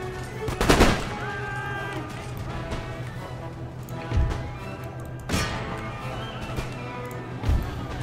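Musket volleys crack out in an Empire Total War battle against Russian forces, with several sharp, scattered bursts of gunfire over a constant low battlefield din, under quiet background noise.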